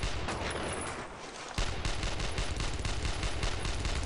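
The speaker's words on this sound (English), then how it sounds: "Stop them from shooting up the place." Machine guns rattle in sustained rapid bursts in the Brothers in Arms World War II shooter, a dense, loud fusillade that briefly dips before resuming even harder.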